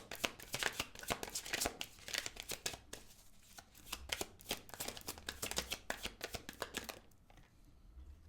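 Tarot cards are shuffled by hand close up, a run of quick riffling flutters and soft slaps in bursts, then a short pause and a final flurry, with no talk.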